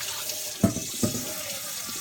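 Water runs from a kitchen sink faucet while a stainless steel bowl is rinsed during home winemaking, a soft steady flow broken by two brief splashy knocks of the bowl, close and fairly quiet.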